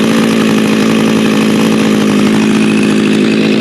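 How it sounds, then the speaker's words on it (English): An Echo string trimmer engine idles steadily and loudly up close, a constant buzzing drone with a strong steady hum that holds for the whole stretch with no pauses. "There's our first machine running. Idle needs to be turned down just a slight bit."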